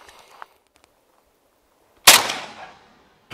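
A single sharp gunshot from an AK rifle fitted with a muzzle flash device rings out loud and close, its crack followed by a decaying echo, with a few faint clicks before it.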